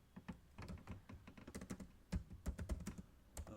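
Fast, uneven keystrokes on a computer keyboard as commands are typed, close and fairly quiet, with a few harder key thunks near the end.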